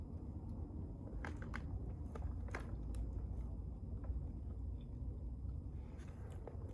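Someone chews fresh papaya close to the microphone on Fuerteventura, giving faint, scattered wet bites and soft mouth sounds over a quiet background hum.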